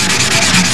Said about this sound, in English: I just wanted to show roughly how much time or effort should be involved in sanding a coat of silver